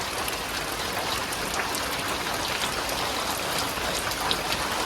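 Steady rain drums on the tin roof of a village house, a dense, even patter of drops that continues for the whole stretch with no voices.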